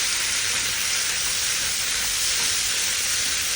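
Chickpeas sautéing with capsicum in a hot pan, a steady broadband sizzle and hiss holding even and loud throughout with no talking.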